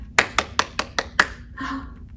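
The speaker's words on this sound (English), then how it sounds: "Give a little clap" Six crisp, evenly spaced hand claps close by, played as part of a children's song in a pre-K church kids' service, followed by a brief sung voice.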